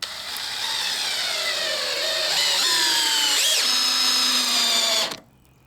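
A power drill drives lag screws into a new trailer joist, a steady whining motor roughly five seconds long with rising pitch sweeps as the screw bites, loud and close, then cutting off abruptly.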